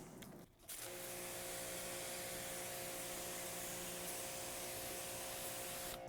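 Water sprays in a continuous, even hiss as a car is rinsed after a shampoo wash, a brief break near the start, then a steady rush without pause.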